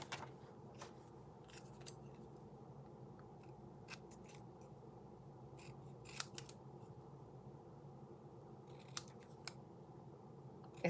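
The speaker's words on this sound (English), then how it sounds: "You get that scissors lined up. Keep it straight." Scissors cut straight lines through paper cards in quiet, scattered snips and clicks over a steady low background hum, with no talking.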